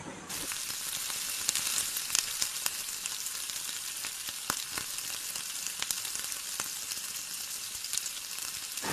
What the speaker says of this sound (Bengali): বাটার আর কর্নফ্লাওয়ারটা একটু ভেজে এবার এতে পেঁয়াজ কুচি দিয়ে দিতে হবে।